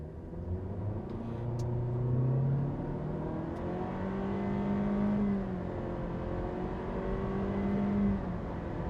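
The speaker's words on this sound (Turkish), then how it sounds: "Şimdi bir tane size sürpriz benim de ilk defa deneyeceğim bir 0-100 yapalım hazır böyle bir düzlük bulmuşken." A Honda Civic sedan in normal mode accelerating from 0 to 100 km/h on a flat stretch, a steady engine rumble rising in pitch through the gears with brief dips at each shift, heard from inside.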